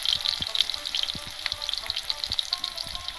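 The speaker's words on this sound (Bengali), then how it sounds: "কড়াটা গরম হয়ে গেছে চলো ওর মধ্যে আমি আলুটা দিয়ে দিই" Potatoes fry in hot oil in a heated wok with a steady, close, bright sizzle and a few soft stirring knocks, without talk.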